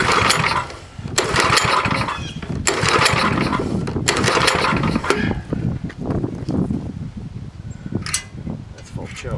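A vintage, rusty snowblower engine runs at mid throttle with a loud, steady mechanical drone that holds throughout, broken by a few sharp bursts of clatter.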